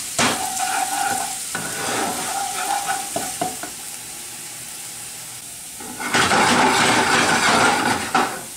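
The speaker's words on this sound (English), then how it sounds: "I just really want to extract the flavors from the garlic and the ginger" Garlic and ginger fry in a pan with a continuous sizzle and hiss, broken by scraping stirs, then the sizzle swells louder and brighter toward the end.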